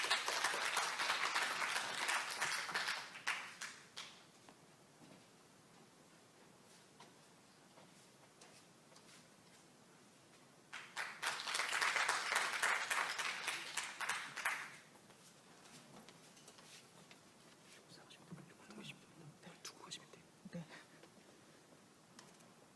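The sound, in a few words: audience applause welcoming presenters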